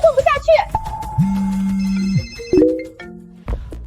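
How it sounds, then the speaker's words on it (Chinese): A mobile phone ringtone sounds for an incoming call: a short melodic run of electronic tones gives way to a steady held tone and brief chime-like notes. Vocal sounds are audible at the start. "李哥，您怎么突然想起给我打电话啦？"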